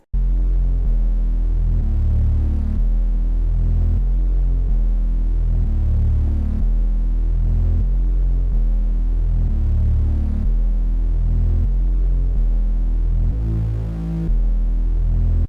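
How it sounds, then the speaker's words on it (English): Clean, undistorted Moog-style synth bass from Omnisphere plays a simple repeating pattern of deep sustained notes, loud and steady with brief gaps between phrases. "So we got the Grella Moog bass inside Omnisphere, which is probably one of the best basses in there"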